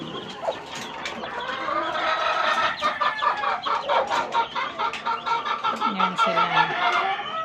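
A brood of young chicks chirps and clucks continuously in a close chorus of overlapping high peeps, with one brief spoken line over the flock.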